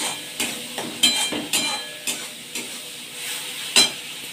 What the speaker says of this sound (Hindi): डाल के अच्छे से भून लूँगी तेल ना निकलने तक